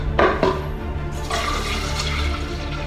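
Eight ounces of alkaline water pouring into a shaker bottle, a short close splashing gush that rises and steadies for a couple of seconds with no talk.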